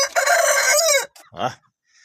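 A Barnevelder rooster crows loudly and close by, one long strained cock-a-doodle-doo, followed by a short clucking call before quiet.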